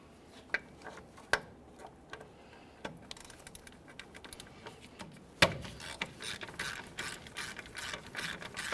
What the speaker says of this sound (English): Let's remove our two caliper bracket bolts.